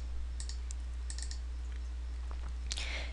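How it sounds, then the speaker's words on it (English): Faint clicks of a computer keyboard come in a few short bursts over a steady low hum, quiet and close with no speech. "I'm typing hi"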